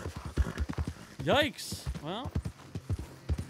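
Horse hooves clip-clop in Red Dead Redemption 2, with irregular thuds beneath someone talking. Two brief whinny-like squeals rise in the middle.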